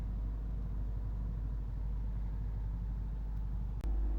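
A 2011 Honda CR-V 2.0 i-VTEC EX automatic 4WD idles steadily with a low, even engine rumble, heard close and continuous, broken by a single brief click near the end.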